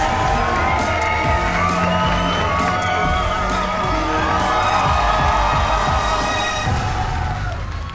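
Studio audience on the RM1,000,000 Money Drop game show cheers and whoops loudly and continuously, with excited shouts over a dense crowd roar that stays full through the whole stretch.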